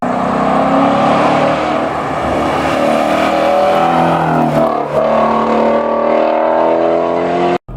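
Shelby GT350R with a 5.2-liter normally aspirated flat-plane-crank V8, its engine roaring loud and close as it holds a high sustained howl and the pitch climbs and shifts through revs, with no voices.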